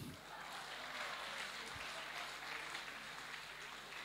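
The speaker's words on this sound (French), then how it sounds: "On peut applaudir les volontaires." A church or lecture audience applauds a group of five volunteers, a steady dense wash of clapping filling the whole stretch at even loudness, fairly close.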